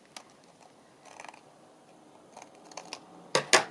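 Quiet, scattered snips of scissors cutting paper, ending with two sharper, closer cuts.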